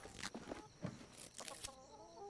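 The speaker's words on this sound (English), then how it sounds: "the chickens sound cute" Chickens cluck in the Atlas video game, a few soft, uneven clucks and short calls spaced across the moment, faint and somewhat distant with no talking.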